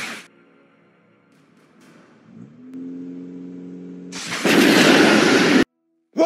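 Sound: spaceship firing weapons, explosion effect

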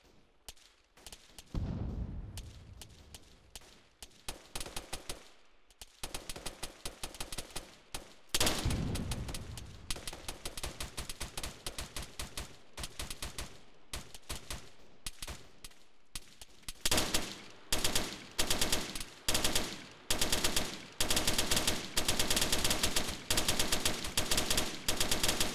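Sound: gunfire and machine gun fire from the tree line

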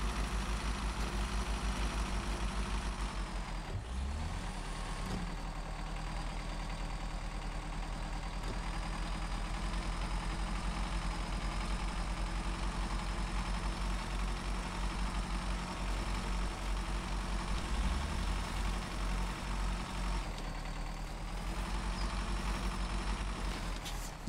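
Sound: truck engine idling in SnowRunner video game

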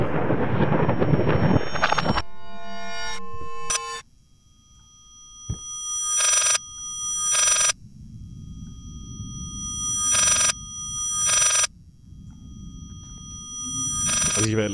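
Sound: telephone ringing in Layers of Fear video game

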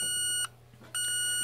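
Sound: 1982 Sears Model 47201 alarm clock alarm beeping

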